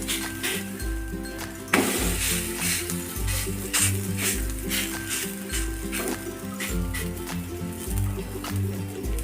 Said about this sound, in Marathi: परत पॅनमध्ये तेल टाकून घ्यायचं वरून प्रेस करून घ्यायचे